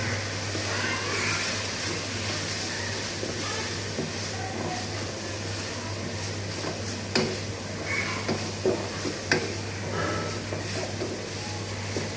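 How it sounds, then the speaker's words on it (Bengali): Turmeric and chili powder frying in a pan for Bangladeshi beef with chana dal, giving a steady close hiss with a few light clicks and scrapes of stirring near the end, with no voices. "এটাকে ভালো করে কষিয়ে নেব আপনারা।"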